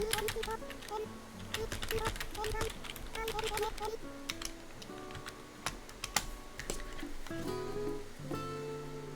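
Rapid clicks of someone typing on a computer keyboard, close and busy in irregular bursts, with a voice talking over parts of it.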